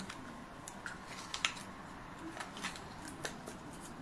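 Hands struggle to open a tightly wrapped journaling item, giving scattered soft crinkles and brief sharp snips of plastic wrap, faint and close, with no voices.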